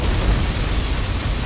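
A loud, sustained roaring blast of broadband noise with a booming low end: a particle cannon firing in the game Command & Conquer: Generals Shockwave.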